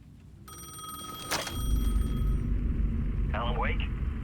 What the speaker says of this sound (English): The payphone was ringing again.